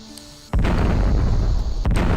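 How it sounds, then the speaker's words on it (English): A bomb trap goes off in the Lode Runner Online game, a loud sudden boom that starts abruptly and holds a dense rumbling roar, with a second sharp burst near the end. "Bomb trap."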